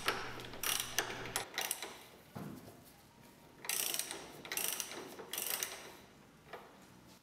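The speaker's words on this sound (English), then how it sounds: "counter hold nut while loosening bolt with ratchet" Ratchet loosening a bolt at the front diagonal link of a Porsche 911 Carrera while the nut is counter-held, heard as several bursts of rapid clicking separated by pauses, close and alone.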